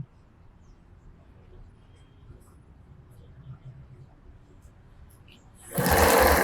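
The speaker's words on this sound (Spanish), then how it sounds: "Llevo las dos puntas hacia el centro. Y voy cosiendo." A sewing machine stitches fabric for a multipurpose bag, starting up loud and close near the end with a fast buzzing whir after a stretch of quiet background.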